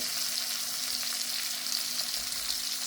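Beef tenderloin pieces frying in a pan, a dense continuous sizzle holding steady and close throughout with no pauses.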